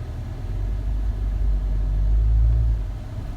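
A car pushing slowly through deep snow after a heavy snowstorm, a continuous low engine rumble that swells slightly toward the end, heard from inside the vehicle with no talking.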